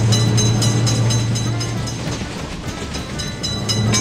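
A video game train rumbles past a level crossing on an Indian railroad, loud and close, its steady low hum carrying a regular clickety-clack of wheels over rail joints throughout.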